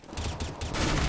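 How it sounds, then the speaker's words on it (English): P90 submachine gun from CS:GO firing in rapid automatic bursts, three short loud volleys followed by a longer sustained stream of shots, close and dense. "I will now demonstrate how to correctly use a P90."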